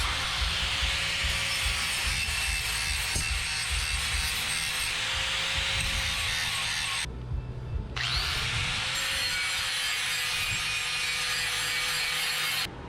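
Tailpipe expander being worked on a steel exhaust pipe for a Jeep XJ stainless exhaust, a loud steady grinding and scraping with a constant mechanical whine, briefly cutting out for about a second before continuing, close up with no talking.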